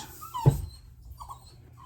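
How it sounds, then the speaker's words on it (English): A dog carrying a toy in its mouth gives one short, high whimpering cry, close and fairly quiet, then soft snuffling sounds. "does anybody else's dog run around with a toy in their mouth crying?"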